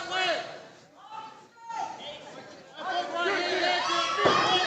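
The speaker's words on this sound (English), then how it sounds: "Here's someone in the crowd yelling," Spectators at a kickboxing event shout and yell in loud, overlapping bursts, the crowd noise swelling and dipping under steady arena chatter.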